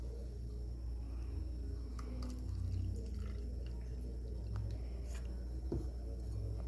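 Water is poured into a glass container in a continuity-equation demonstration, a soft steady trickle and drip under a low rumble, close and faint.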